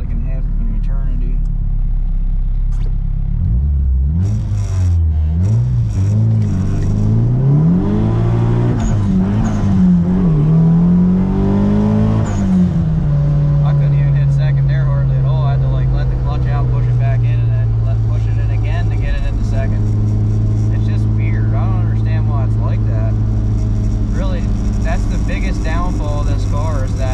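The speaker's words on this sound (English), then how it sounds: "I'll do a first gear launching it right here and see how it is, but you'll see shifting to second takes like in half of an eternity." A Nissan 180SX with an SR20DET engine launches hard in first gear, revs climbing and wavering loudly before a long, slow shift into second and a steadier drone; the engine is close and constant, with talk over it.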